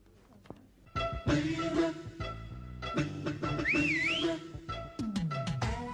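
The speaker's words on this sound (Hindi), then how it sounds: "अरे ये सीटी किसने बजाई?" Someone whistles outside a house in a comedy scene, a series of bright, wavering tones with one rising and falling warble, over an uneven background of clatter.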